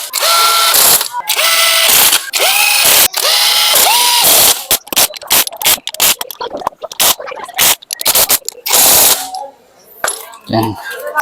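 A power tool drives screws into a Kawasaki Fury 125 engine during assembly, loud whirring bursts one after another, each ending in a ratcheting clatter, with short pauses and rattling of loose screws between them.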